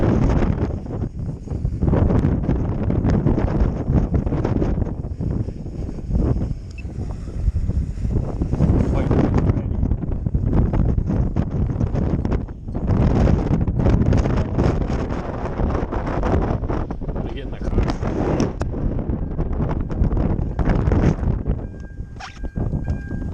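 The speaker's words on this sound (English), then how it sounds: "It's windy," Strong gusty wind at an outdoor cemetery, roaring and buffeting the microphone in a loud, continuous rush that swells and dips for the whole stretch with no talk over it.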